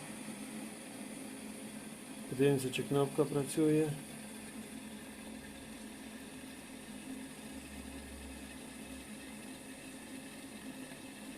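A Grunhelm electric kettle heating toward a boil gives a steady, even hiss and low rumble throughout, with someone speaking briefly near the start over the noise.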